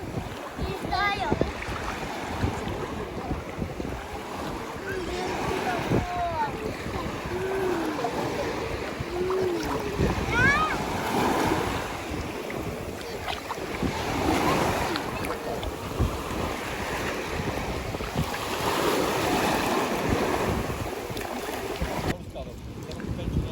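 Autumn sea waves wash onto a beach in Turkey in a constant rushing surf mixed with wind buffeting the microphone, with voices talking and scattered chirps over the roar throughout.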